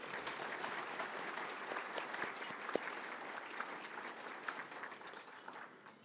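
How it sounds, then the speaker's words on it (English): Audience applause at a conference lunch session, a sustained crowd of hands clapping at a distance with a few sharper individual claps standing out, fading slightly toward the end. "So let's give everyone a big round of applause and thank them."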